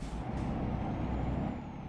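A loud, steady hiss of a truck's air brake releasing in a video game, close up, lasting the whole moment with a low engine rumble underneath.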